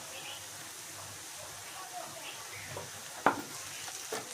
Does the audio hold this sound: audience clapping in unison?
no